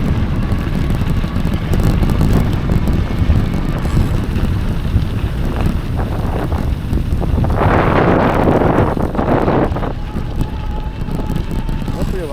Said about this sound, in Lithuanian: Nuo ežero pusės tikrai nešiltas vėjas, nešiltas.